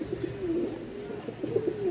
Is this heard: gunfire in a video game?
no